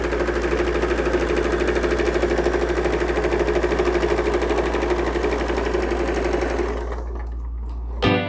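A sewing machine stitching straight-line quilting runs in a fast, steady whirring drone for several seconds, close and loud, then cuts out and ends with a short click.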